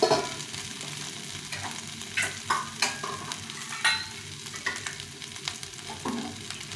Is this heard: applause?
no